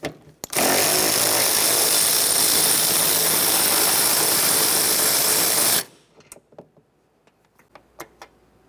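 A power ratchet spins off the rearward 11mm nut while replacing the heater blower cage on a 2001-2005 Ford Explorer Sport Trac, a loud, steady whirring burst of about five seconds that cuts off abruptly, followed by scattered light clicks and taps.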